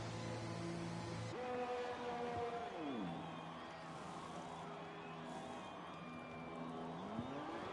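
A Formula 1 car in F1 2020 pulls out of the pits at the Japan round, its engine note holding steady, dropping, then climbing again under a constant roar of track and crowd ambience.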